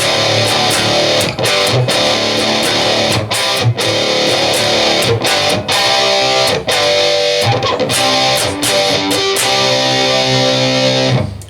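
Heavily distorted electric guitar plays a riff, with loud chugging power chords, sharp rhythmic stops and string mutes, played alone and up close.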